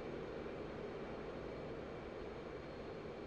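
An F/A-18C jet engine in DCS World during carrier operations, a steady broadband roar with a faint whine, constant and loud throughout with no voices.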